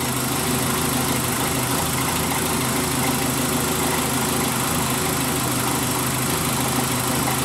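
A car engine idles after a Mécarun additive treatment, a steady even mechanical hum and whirr that stays loud and constant throughout with no voices.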